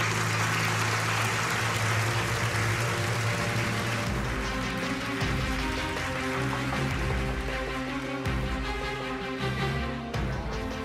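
Sustained applause from a large crowd at a formal gathering in a Telemundo drama scene, steady and full throughout with no pauses.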